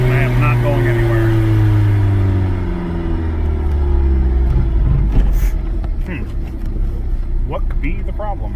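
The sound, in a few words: car engine at full throttle with plugged intake manifold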